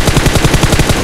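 Rapid automatic gunfire in PUBG Mobile, a loud close burst of about ten evenly spaced shots in just over a second.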